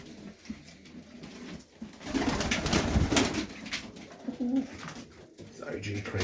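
Highflyer pigeons coo repeatedly at a late-afternoon feeding, with soft rolling calls near the microphone and rustling and wing movement in between.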